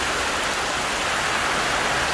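Heavy thunderstorm rain pours down steadily in a dense, even hiss during outdoor cooking, with no thunder or talking heard.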